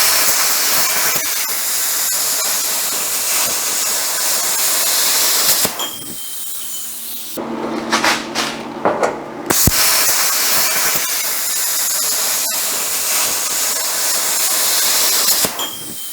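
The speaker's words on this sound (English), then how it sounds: "So let me cut some holes." Steel being cut with a steady, loud hissing roar while holes are made in a thin steel fuel tank. Two long sustained bursts are separated by a short pause filled with quieter clattering and handling noise.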